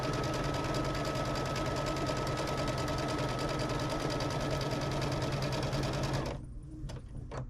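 A sewing machine stitches steadily through the fabric of a June Tailor shopper bag, a loud close continuous mechanical whir for about six seconds before stopping, followed by a few faint clicks.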